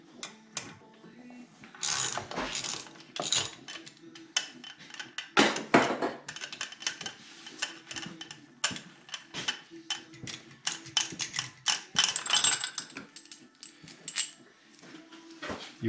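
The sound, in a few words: ratchet loosening 10mm bolt on Arctic Cat ZR7000 snowmobile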